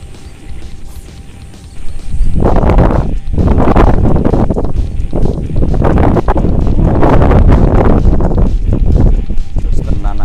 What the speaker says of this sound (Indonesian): Anginnya udah mulai kencang dan semoga masih banyak strike-nya ya